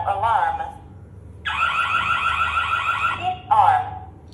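A warbling electronic emergency alarm blares for a couple of seconds, bracketed by short announcements from an automated voice.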